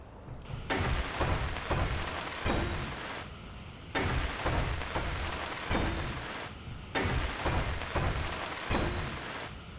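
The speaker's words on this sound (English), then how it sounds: "It's always raining here." Steady rain in a video game, a dense unbroken hiss that keeps a fairly even level, briefly dipping a few times before returning, with no voices.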